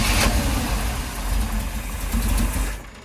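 A 1984 GMC square body truck engine idles loud and close, a rough steady rumble with slight surges, cutting off abruptly near the end.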